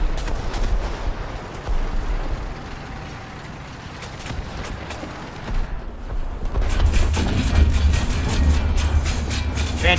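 A tank shell striking the gun barrel of a T-10A heavy tank in War Thunder, loud blasts and metallic impacts over a continuous engine and track rumble that swells into a heavier roar near the end.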